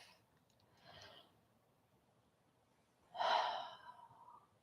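A meditation group draws a soft breath in, then releases a louder, airy exhale or sigh a few seconds later, quiet and close in a hushed room.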